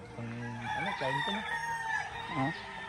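A gamecock crows loudly nearby at a gamefarm in Tarlac, a long drawn-out call followed by shorter clucking notes, with faint background chatter.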